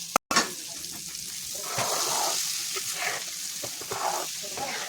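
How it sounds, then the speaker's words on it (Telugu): Tempering being stirred into a homemade tomato pickle mixture, with a steady sizzling hiss and soft, irregular scraping strokes continuing throughout, after a sharp knock at the start. "ఇలా ఆ పోపు అంతా టమాటా పచ్చడిలో వేసుకోవాలి. వేసుకున్న తర్వాత ఈ మిశ్రమాన్ని అంతా కలుపుకోవాలి."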